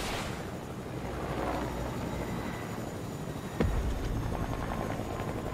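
A helicopter in the Fortnite video game gives off a steady, loud rotor roar and whir that runs throughout, with a sharp impact thud near the end over a dense game soundscape.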